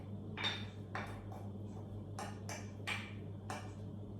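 A spoon clinks and taps against a bowl while pumpkin quinoa salad with dill, pomegranate, red pepper, walnuts and avocado is mixed; about seven quick, faint, close strokes come in an irregular rhythm over a low steady hum.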